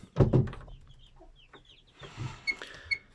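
A hen with newly hatched chicks clucks twice, low and close, then soft rustling follows with faint high chick peeps near the end.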